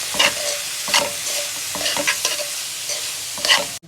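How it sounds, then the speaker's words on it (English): Mincemeat fries in seasoned oil in a pan, a close steady sizzle broken by repeated scraping stirs of a utensil, with no voices. "we're going to add the mincemeat to this. Stir it, stir it, stir it."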